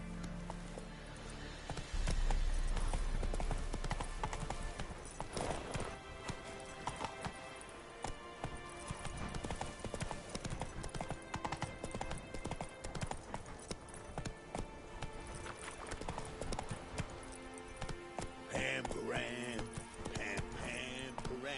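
Horse hooves galloping in The Witcher 3 on PS5, a steady, fast clip-clop rhythm that runs throughout against dense game ambience and music, with a brief low thump near the start.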